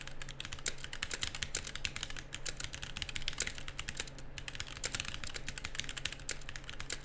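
Rapid, steady typing on a GamaKay K66 RGB mechanical keyboard, dense clacky keystrokes close up with no talking, over a faint low hum.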